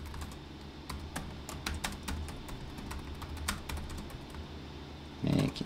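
Rapid keystrokes on a computer keyboard, close and clear, in an irregular typing rhythm of sharp clicks, ending with a short louder thump.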